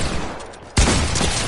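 Gunfire in a PS4 video game: quieter game ambience, then a sudden loud burst of rapid shots that continues to the end, with no talking.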